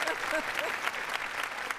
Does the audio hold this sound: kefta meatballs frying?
no